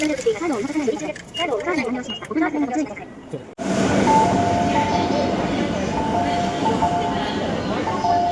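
A train rumbles loudly and steadily into a Tokyo station after a spell of nearby chatter, its broad roar and a faint whine filling the space.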